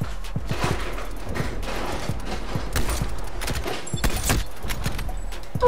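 Sniper rifle shots and gunfire in Call of Duty: Cold War, sharp cracks scattered irregularly among mechanical clicks and footsteps, with one louder report near the end.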